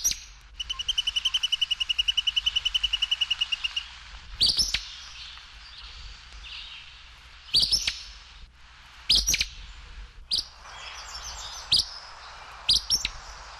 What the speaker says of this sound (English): 149, Acadian Flycatcher.